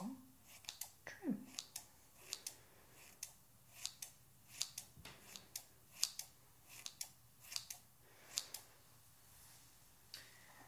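Close binaural snips of salon scissors trimming hair, a steady run of crisp metallic cuts spaced about half a second to a second apart, quiet and intimate in a calm haircut roleplay setting.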